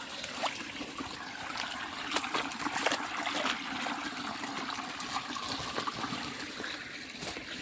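A small stream in a forested patch trickles and gurgles steadily, with light splashes as someone washes hands and feet in it, close by and fairly quiet.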